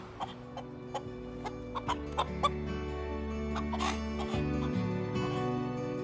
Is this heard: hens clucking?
yes